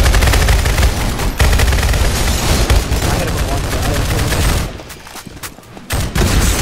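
Rapid video game gunfire rattles in dense, loud bursts, nearly continuous, with a brief lull before firing resumes, and voices talk faintly underneath.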